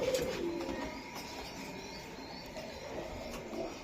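Budapest pigeons coo softly a few times, low and rounded, over a faint, steady background hum.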